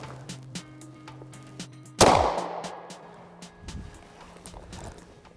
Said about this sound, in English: Glock 17, 9mm, FMJ rounds.